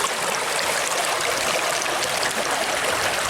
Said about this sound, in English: we are crossing water